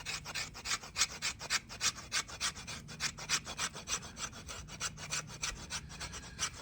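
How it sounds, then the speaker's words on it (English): Spine of a Silky folding saw scraped along fatwood to raise shavings, a quiet, rapid rhythmic rasping of about three strokes per second that continues steadily and stands alone. "I'll use the back of my silky saw to process some shavings down."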